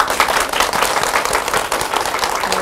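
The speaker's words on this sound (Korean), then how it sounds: "큰 박수로 맞이해 주시기 바라겠습니다" An audience at a Jeju architecture fair claps warmly to welcome a magazine editor, dense even applause lasting under three seconds at close range with no talking.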